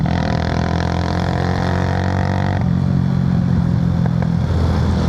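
A United CCR 150 motorcycle runs steadily with an aftermarket exhaust, giving a close, continuous low engine drone with a slight shift in tone partway through and no speech.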